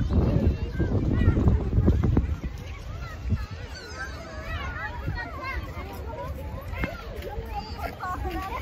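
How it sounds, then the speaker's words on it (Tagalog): Gusty wind buffets the microphone outdoors at Aspire Park in Doha, Qatar, a heavy low rumble strongest in the first two seconds and then steadier, with people talking over it throughout. "Mahangin ngayon talaga."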